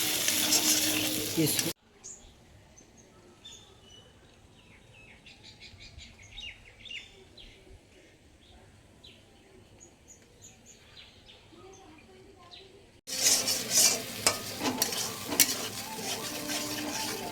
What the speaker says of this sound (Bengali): মশলাটা বেশি কষা যাবে না হালকা করতে হবে